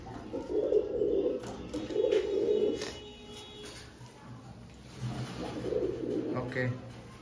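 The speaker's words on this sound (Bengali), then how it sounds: "এটা খুব ভালো পায়রা" Pigeons for sale at a market in Madhyamgram coo in repeated throaty bursts, moderately close, with some faint chatter and background noise between the calls.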